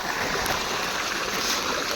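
Irrigation water runs through a field channel on a farm, a loud, constant rushing wash heard up close, unbroken for the full two seconds and without any talking.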